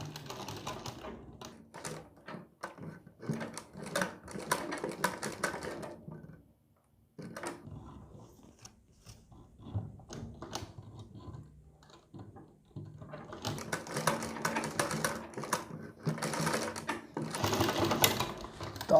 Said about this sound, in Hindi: ऐसे ही हम इस सिलाई के बराबर में फिर से एक सिलाई को जैसे ये लगी है सेम इसी तरीके से लगाएंगे।